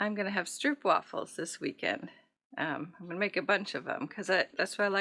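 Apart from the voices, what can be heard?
No everyday noises stand out.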